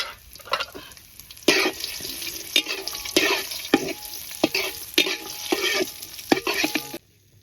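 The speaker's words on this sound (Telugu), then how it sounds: "లైట్గా వేయించి పక్కన పెడదాం." Cashews and raisins fry in a tablespoon of ghee and a tablespoon of oil in a village kitchen, a close sizzle broken by repeated scraping stirs of a spoon against the pan, ending abruptly.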